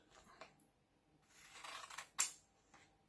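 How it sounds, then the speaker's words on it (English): Scissors trim a vinyl decal on its backing sheet, producing a few soft snips and one sharp metallic click close by, quiet and without speech. "take my scissors, trim things up a little bit"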